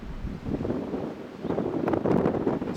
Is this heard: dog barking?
no